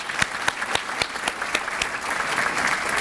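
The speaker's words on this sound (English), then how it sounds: "Let's give them a round of applause." An audience at a State of the City event applauds council members with a steady burst of many hands clapping, sharp individual claps standing out early before the sound thickens into a full, continuous round of applause.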